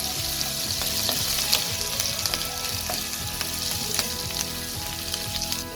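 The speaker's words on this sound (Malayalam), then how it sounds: "അടുത്ത സാധനം ഇഞ്ചി അരിഞ്ഞ് വെച്ചിട്ടുണ്ട്, നമ്മൾ അതും കൂടി ഇട്ട് കൊടുക്കുക. നല്ലോണം ഒന്ന് വഴറ്റിയെടുക്കണം." Chopped ginger sautés in a hot pan for a cake recipe, giving a steady, close sizzle with faint scraping stirs throughout and no voices.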